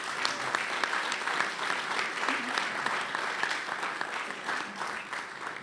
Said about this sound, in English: How about another round of applause for Admiral Zukunft?